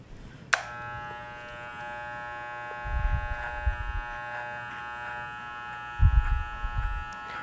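A Leonardo electric hair clipper running at a steady tonal buzz after a click switches it on, with short low rustling bursts as the blades pass through hair at the perimeter.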